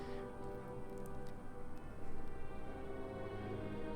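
Rain in a Napoleon: Total War battle. It makes a steady, moderately loud hiss and patter with no pauses, swelling a little in the middle, and no speech is heard.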